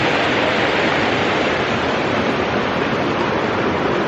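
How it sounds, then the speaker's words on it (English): The Big South Fork River rushes steadily beside a hiking trail, a dense broadband wash of flowing water that stays close and unchanging throughout, with no voices. "Right here beside this amazing river."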